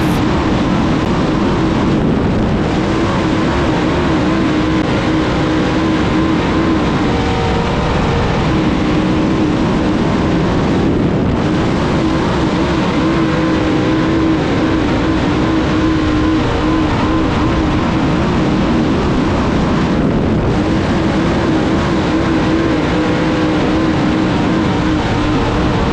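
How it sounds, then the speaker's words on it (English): Race car engine loading up and bogging down at All-Tech Raceway, a continuous loud, strained drone with steady low harmonics, held for the full stretch with brief dips in intensity. "Bogging the fucking motor down really bad."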